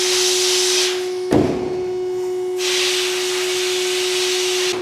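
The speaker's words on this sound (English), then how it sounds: "I swear sandblasting is probably one of the most boring things you could possibly do with your day" Sandblasting car parts before powder coating on an Evo 8 rebuild: a loud steady hiss of blasting air with a low hum, cutting out briefly after a sharp clunk, then resuming at full strength.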